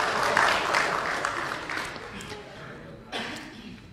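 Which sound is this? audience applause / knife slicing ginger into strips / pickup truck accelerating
audience applause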